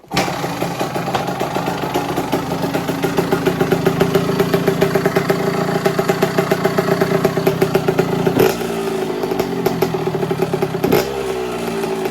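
KTM 65 SX motocross bike engine running close by, a fast buzzy two-stroke idle with a steady rapid pulse, briefly revved twice near the end.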